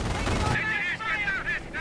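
Machine gun fire from a Company of Heroes battle near a bridge, a dense burst up front that gives way to clipped, honking-sounding bursts under a busy mix, fairly loud and continuous.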